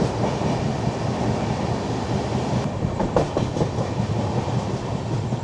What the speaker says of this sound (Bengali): ট্রেন এসে পৌঁছালো সাঁতরাগাছি